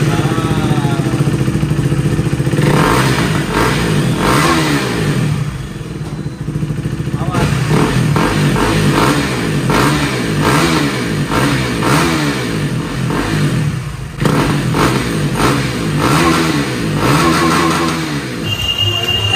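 A KTM motorcycle fitted with a Red Rooster exhaust revs loudly up close in repeated rising and falling pulls, its engine note dominating while a voice talks underneath.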